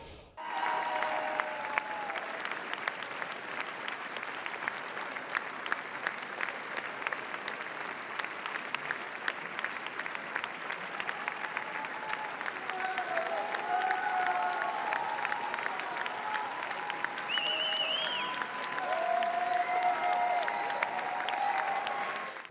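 A Cannes film premiere audience gives a standing ovation, with dense, continuous applause from a large crowd that holds steady throughout and is faintly mixed with cheering.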